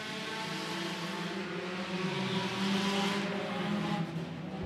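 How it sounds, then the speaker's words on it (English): Sport compact race cars roar away at a green-flag start on an oval at El Paso County Raceway, a dense, continuous engine drone swelling as the pack accelerates, loud and steady throughout. "Green flag, we're racing."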